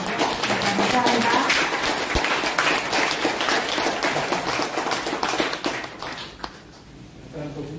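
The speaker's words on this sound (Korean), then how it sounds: "자신한테 서로에게 한번 박수 보내면서 이야기 나누겠습니다" At a book concert, the audience claps together in a dense, lively round that stays strong for several seconds, then thins out and fades to a few scattered claps.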